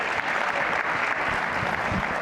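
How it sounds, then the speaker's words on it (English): Steady audience applause at a business council event, a continuous wash of many hands clapping together at even volume through the whole short stretch, with no voices on top. "You can clap for that."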